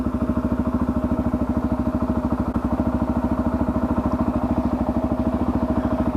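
A Suzuki DRZ motorcycle engine runs steadily and loudly up close, its rapid even firing pulses holding a constant thumping rhythm throughout with no voices.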